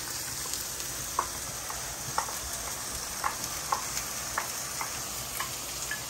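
Garlic added to onions sizzles in a pan with a steady, soft frying hiss, broken by small sharp ticks and pops every second or so, close but quiet.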